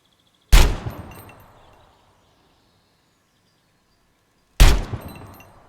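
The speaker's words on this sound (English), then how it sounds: "Shoot down as many targets as possible in 60 seconds." Two loud, sharp gunshots fired at targets in GunSmith Simulator, spaced about four seconds apart, each with a decaying echo tail into silence.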